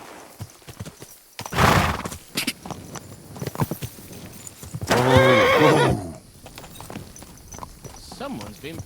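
Horse hooves clip-clopping and a loud whinny in the video game Kingdom Come Deliverance 2, with hoofbeats and neighs mixed among voices talking.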